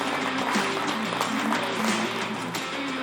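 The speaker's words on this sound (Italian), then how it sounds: "Un bel applauso al tifoso." A TV sports studio audience applauds a football fan, steady dense clapping filling the short moment with no talk over it.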